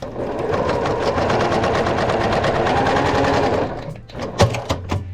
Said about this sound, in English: we're going to just sew directly onto that line